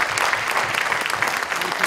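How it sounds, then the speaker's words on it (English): Audience applause at a technology talk in Amman, steady dense clapping from a seated crowd filling the whole short stretch, fairly loud and close with no voices over it. "definitely big round of applause"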